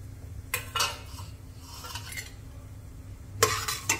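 Coconut being stirred and roasted in a pan for Sindhi tahiri sweet rice, with a few close scraping and clinking utensil strokes against the pan over a low steady background.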